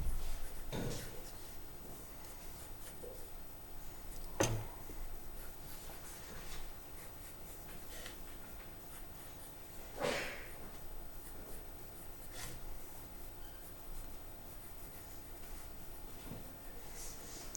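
Freehand pencil sketching on paper, soft close scratching strokes with occasional sharper taps and rubs, quiet and intermittent throughout.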